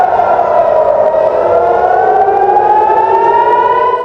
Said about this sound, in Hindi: अचानक से हाई अलर्ट का सायरन बजता है